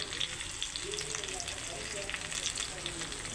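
Spices frying in oil for a Bengali rohu fish curry with potato and cauliflower, a soft steady sizzle with faint stirring scrapes, fairly quiet and continuous throughout.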